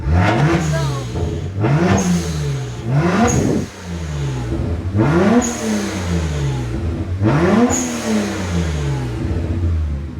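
A BMW 1M engine revs up hard five times in a row, each rise in pitch followed by a falling note as the revs drop, loud and close, with no voices.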